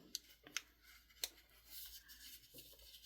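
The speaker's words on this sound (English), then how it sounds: "So I'm just going to fold that and then cut each one." Scissors snipping through folded paper to trim junk journal embellishments, a few quick, soft cuts at close range, spaced irregularly with faint rustling between them.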